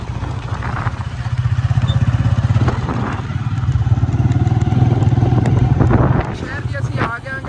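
A motorcycle engine drones close and steady throughout, with wind buffeting and occasional rattling clatter as it rides along.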